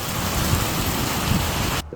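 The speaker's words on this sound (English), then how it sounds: "thunderstorms triggered large hail and wind gusts reaching up to 80 kilometers per hour" Heavy thunderstorm rain with hail beating steadily on surfaces, a dense continuous wash close by that cuts off abruptly near the end.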